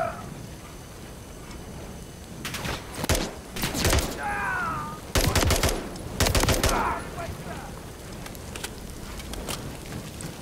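Dragon's breath shotgun rounds fired in Call of Duty Modern Warfare 3, several loud bursts of gunfire in clusters over rainy background noise, with a fiery whoosh between shots.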